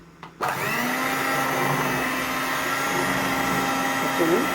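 An electric beater switches on with a click and runs at a steady, loud whine while whipping dahi vada batter, close and continuous, with slight strain near the end as it works the mixture.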